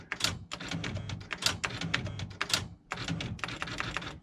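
Rapid, crisp keystrikes on a TA Satellite III typewriter, clattering in quick bursts with a brief pause midway, close and fairly loud, no voices.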